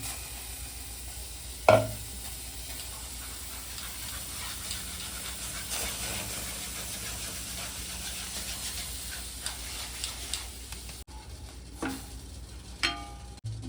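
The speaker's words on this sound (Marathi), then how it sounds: "पॅन गरम झाल्यावरती जी पेस्ट बनवली ती टाकायची आहे" Aloe vera and bhringraj paste heats in a hot pan on a gas stove, giving a faint, steady low sizzle with occasional soft scrapes of stirring and one sharp clink near the start, no voices.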